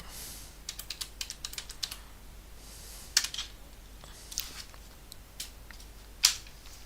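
Quick, irregular clicks of typing on a malfunctioning computer keyboard, with bursts of keystrokes and a few louder taps, close up with no talking.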